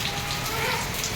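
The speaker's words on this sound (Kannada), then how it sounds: "ಫುಲ್ ಮಳೆ ಬರ್ತಾ ಉಂಟು." Heavy rain pours down at a home in Kundapura, a dense, steady hiss of drops striking surfaces that stays even and loud from start to finish.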